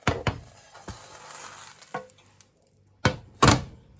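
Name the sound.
spinach and oats crepe sizzling as it is flipped in pan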